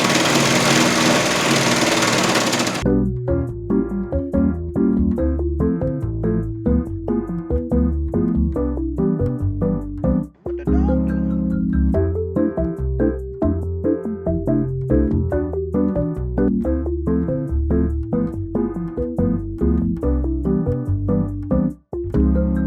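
A sewing machine stitches a hoodie in steady, rapid bursts of mechanical chatter, close and loud. It starts after a brief hiss and pauses briefly a couple of times.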